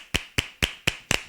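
Five sharp, evenly spaced hand claps from young children at a church worship class, crisp and close with a brisk steady rhythm.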